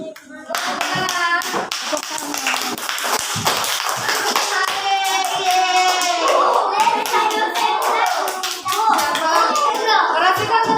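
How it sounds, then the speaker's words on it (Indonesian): Children clapping hands in a classroom, a rapid patter of claps mixed with lively kids' voices and chatter, loud and close, continuing for several seconds. "Tepuk tangannya."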